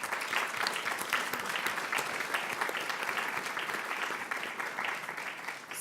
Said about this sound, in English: I'd like to have you ask for an applause for the work that the teams are doing